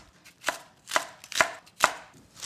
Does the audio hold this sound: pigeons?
no